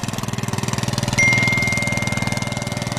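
A small generator engine running nearby, throbbing in a fast, regular pulse at a steady pace, loud and close, with a faint high whine joining partway through.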